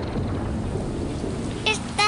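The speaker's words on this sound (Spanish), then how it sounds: "¡Está lloviendo!" Steady rain hisses with a low thunder rumble underneath, and a voice briefly cuts in near the end.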